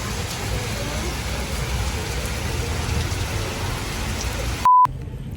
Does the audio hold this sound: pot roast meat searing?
no